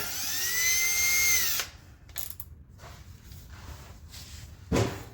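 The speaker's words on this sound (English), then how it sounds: "So I've got plenty of room to drill a pilot hole in my pipe." A power drill whines steadily at first drilling a pilot hole in a metal pipe, then cuts off, followed by a few short scraping bursts and a quieter stretch with one last brief rasp.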